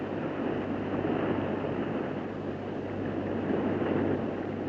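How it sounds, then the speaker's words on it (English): Water rushing around an elevator shaft as a radio drama effect, a steady, loud roaring wash of broadband noise with a low rumble that holds constant throughout, without speech. "Water rushing around the elevator shaft."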